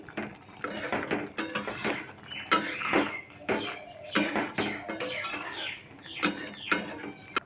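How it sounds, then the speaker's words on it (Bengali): A spoon scrapes and clatters in a pot while masoor dal is stirred with a half spoon of ghee, giving quick irregular scraping strokes and light knocks close by, with no talk. "ঘিটা দিয়ে একবার নেড়ে নিচ্ছি"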